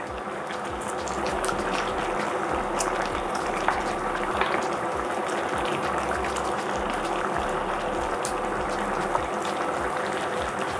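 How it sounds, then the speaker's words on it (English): A thick chicken and mushroom pie filling sauce bubbles steadily in a pot, a dense, continuous simmer of pops and gurgles running throughout with no voices. "our filling, our sauce has been bubbling away."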